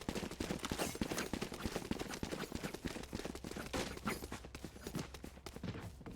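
Rapid gunfire in the tactical shooter Valorant, dense bursts of sharp shots crackling continuously with short gaps, close and loud, a round of weapon fire during a match.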